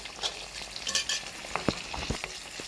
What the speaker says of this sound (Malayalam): ഫ്ലെയിം ഓഫാക്കി ഇപ്പോൾ ഓഫാക്കിയതിന് ശേഷം തിളക്കുന്നുണ്ട്